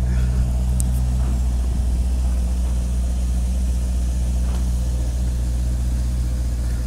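A Maserati GranTurismo sports car idles nearby with a deep, steady, rumbling engine drone that holds constant and loud throughout, no revving, with no speech over it.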